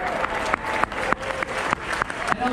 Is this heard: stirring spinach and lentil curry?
no